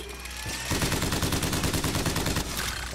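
Crank gun, a hand-cranked rotary machine gun in Bioshock Infinite, fires a loud sustained rapid burst of shots for over two seconds after a brief quieter lead-in, the rattle tapering near the end.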